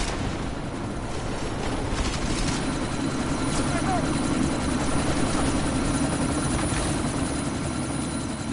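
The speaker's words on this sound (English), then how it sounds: "you need to disable that chopper" Helicopter in the video game Deus Ex: Mankind Divided, set during a sandstorm: a loud continuous rotor roar with wind and rumble throughout, steady and close, with no clear speech.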